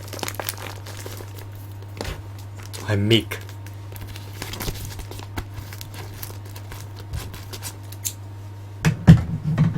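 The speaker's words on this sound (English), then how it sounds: "Perhaps I'm going to need to leverage this nifty pair of scissors to penetrate through the envelope." Scissors work through a paper envelope wrapping an action figure, with close crinkling, scraping and a few snipping bursts over a steady low hum. A voice briefly speaks partway through.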